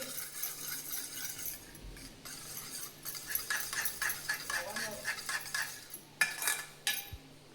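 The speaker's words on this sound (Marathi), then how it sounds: "आणि सर्व हे सॉस ना मिक्स करून घ्यायचे आहे." A metal spoon clinks and scrapes against a small bowl, mixing soy sauce, pizza sauce and other sauces in a quick, uneven rhythm, with a voice talking faintly under the sharp tapping.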